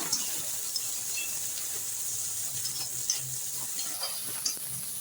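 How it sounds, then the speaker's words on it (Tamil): Soft, steady sizzling of onions sautéing in a pan, a quiet hiss with occasional faint stirring clicks, no voices. "சேர்த்துட்டு நல்லா வதக்கிடுறாங்க"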